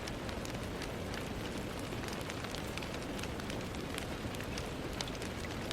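Steady rain falling on a surface, a dense even patter with scattered sharper drops throughout, continuous and fairly soft, with no voices.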